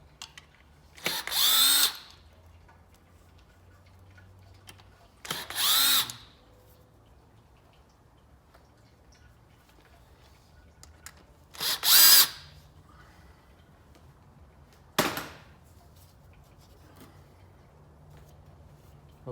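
A power tool spins out transmission pan bolts on a 2017 Dodge Grand Caravan, four separate short whirring bursts spaced several seconds apart over a quiet background.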